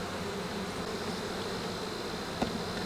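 A dense, steady buzz of honeybees fanning their wings at the hive, a close, unbroken hum with one brief tick near the end, and no voices.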